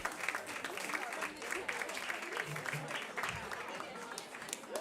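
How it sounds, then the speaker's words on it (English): A crowd claps continuously, a dense patter of applause throughout, with some voices murmuring underneath. "So please give Ricardo a big round of applause as he comes to the stage"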